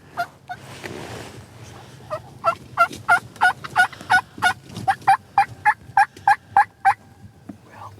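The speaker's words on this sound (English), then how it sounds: "The alarm putt means these birds are about to break." Wild turkey alarm putts ring out in a quickening series of sharp, clipped calls, at least a dozen evenly spaced notes growing louder and closer, preceded by a few scattered putts and some rustling.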